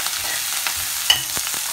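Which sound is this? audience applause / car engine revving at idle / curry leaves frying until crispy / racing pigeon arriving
curry leaves frying until crispy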